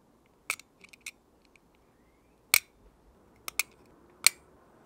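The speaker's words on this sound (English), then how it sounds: "I'm just going to take my little blade here and just cut around the bottom" A small blade cuts around the bark at the base of a branch on an Itoigawa juniper bonsai, giving a few sharp, close snips and clicks spaced out over near silence.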